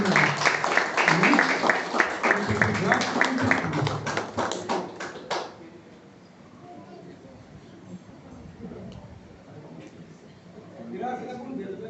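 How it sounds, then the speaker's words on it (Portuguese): Applause at a wedding, a crowd clapping loudly for about five seconds before fading into quieter room murmur with a voice speaking. "uma salva de palmas para vocês, vocês merecem."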